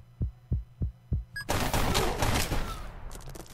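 Deus Ex video game gunfire: four slow, deep thumps, then a sudden dense volley of rapid, loud shots that rattles on for about two seconds before thinning out, with no talking.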